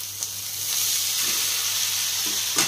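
Maggi noodles hit a hot pan and sizzle loudly and steadily, with a light clatter as they go in and another scrape of stirring at the end.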